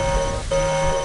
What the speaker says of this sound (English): the alarms are going